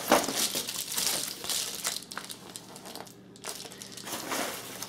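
A cut-to-fit sheet of Reflectix insulation crinkles and rustles steadily as it is handled close by, dense crackling with a brief lull partway through.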